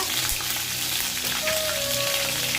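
Mustard seeds, cumin and green chillies hit hot oil in a pan for a South Indian drumstick pulusu, giving a dense, steady sizzle and crackle that stays loud and close throughout, with no talk.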